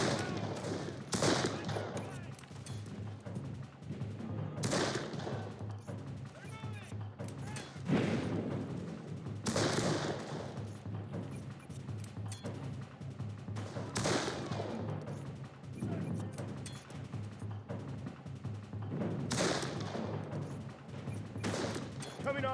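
Repeated bursts of musket volleys and booming cannon fire in the Civil War-era video game Darkest of Days, heavy blasts recurring every few seconds over a continuous battle rumble, with faint talk underneath.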